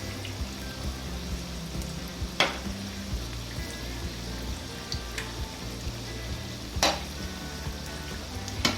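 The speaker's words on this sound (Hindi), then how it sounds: "तो अगर आप पकोड़ों को सरसों के तेल में फ्राई करते हैं" Pakoras sizzling in hot mustard oil over a medium flame for Punjabi kadhi pakora, a steady close crackle and hiss with occasional sharper pops and stirring taps.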